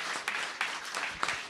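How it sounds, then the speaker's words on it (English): Brief round of applause from a conference audience at a network operators' meeting, a soft spread of scattered claps with a few sharper individual hits, moderately distant and fairly quiet. "So we give Darren a round of applause."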